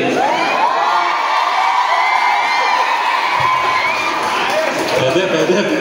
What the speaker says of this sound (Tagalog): Kasi kapag nauna po si Yorme, nagtitilian, nagsisigawan, nagpapalakpakan.